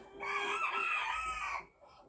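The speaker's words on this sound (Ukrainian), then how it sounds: "Зараз півні захочуть зайти." A rooster crows once, a long strained call lasting over a second, with faint clucking from nearby hens around it.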